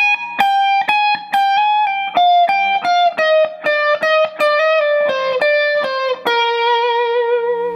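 Electric guitar with a sustained lead tone plays a descending solo lick slowly, a steady run of clearly picked notes stepping downward before ending on a long held note, loud and with no talking.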